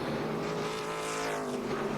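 An ARCA Menards Series West race car at Tucson Speedway roars loudly through the turns, a continuous close engine drone with a shifting pitch as it passes.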